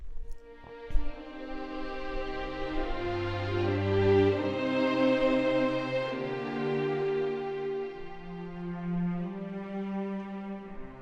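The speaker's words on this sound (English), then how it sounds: "Altogether the strings sound like this." A full orchestral string section plays together without double bass, with sustained chords, a legato upper melody and moving lower lines swelling gently over about eleven seconds.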